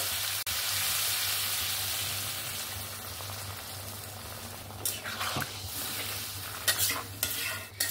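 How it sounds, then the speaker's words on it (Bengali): A potato, pointed gourd and soybean curry fries in a pan with a constant sizzle. Midway, water goes in, causing a louder, brighter hiss, followed by a few clattering stirs close by. "এবার আমি এখানে পরিমাণ মতন একটু জল দিয়ে দেব।"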